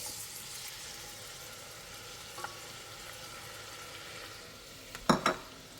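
Garlic sizzles in hot olive oil and butter in a pan for lentil soup, a soft steady crackle with a few brief louder spatters and stirring clinks near the end.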